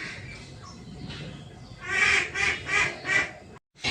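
Ducks quack nearby in a run of four loud, nasal calls after a quieter stretch of background noise, followed by the start of another call.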